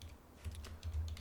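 Keys tapped on a computer keyboard while a command is entered in a 3D modelling program, a quick irregular run of soft clicks close to the microphone.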